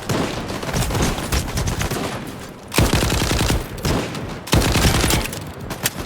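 A weapon in the video game S.T.A.L.K.E.R. 2 fires in rapid automatic bursts. The gunfire is loud and dense, with three close volleys separated by brief gaps, and no talk over it.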